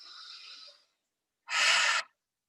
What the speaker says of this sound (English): take a deep breath in through the nose